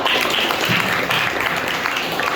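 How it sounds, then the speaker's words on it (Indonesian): Steady applause picked up through an online class meeting, a continuous wash of clapping from several participants lasting a couple of seconds at moderate loudness. "tepuk tangan dulu"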